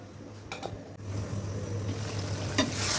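Chicken curry sautéing in a pan, a steady low sizzle with a constant hum beneath and a few brief clatters of stirring.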